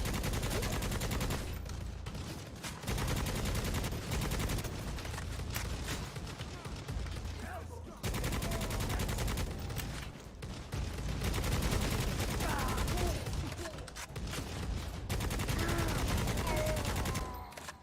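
Dense, sustained gunfire from the first-person shooter game Necromunda: Hired Gun, set in the Warhammer 40k universe, with rapid automatic bursts and booming shots pounding nearly nonstop, briefly dipping before resuming at full loudness.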